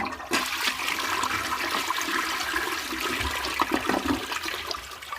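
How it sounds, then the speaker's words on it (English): A toilet flushes after a scoop of TofuKitty tofu cat litter is dropped into the bowl, the rushing, gurgling water loud and continuous from start to finish with no voices. "And we flush."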